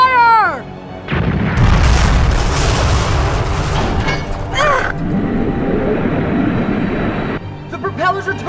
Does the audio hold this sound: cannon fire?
yes